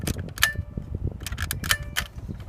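Quick plastic clicks from a car switch being flicked, with a faint metallic spring ring trailing a few of them, close and quiet.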